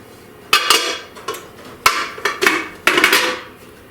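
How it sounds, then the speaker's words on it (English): A metal baking pan of pumpkin brownies is flipped over into a dish, giving several sharp clanks and knocks in quick bursts, close and fairly loud with short quiet gaps. "So I'm going to try to flip this over into my dish."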